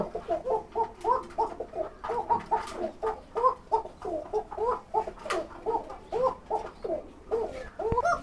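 A pair of Kuka pigeons on a farm coo loudly and nearby in a fast, repeated rhythmic series of throaty calls that continue throughout, with a few brief clicks and no voices.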